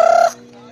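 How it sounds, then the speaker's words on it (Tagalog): A turkey gives a short, loud, rapid gobbling burst close by, then a quiet background hum follows. "Yes po, pabo yan."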